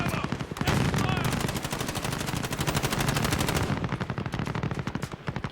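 Rapid automatic gunfire in a video game sounds as dense, loud, evenly spaced bursts of shots, sustained almost without a break and thinning slightly toward the end.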